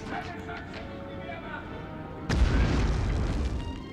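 A gun fires once in the World War II shooter Medal of Honor, during a sewer chase level: a single heavy boom cutting into a steady background rumble of game ambience, near and loud.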